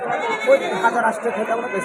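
Jamunapari cross goats bleating at a busy goat market in Ahmedpur, several short bleats rising over constant crowd chatter and nearby talk.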